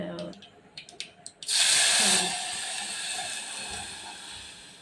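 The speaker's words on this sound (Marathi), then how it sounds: "आता इथे छान मोहरी तडतडलेली आहे" After a few spoken words, a sudden loud sizzle of mustard seeds spluttering in hot oil erupts, then settles into a steady, fading hiss.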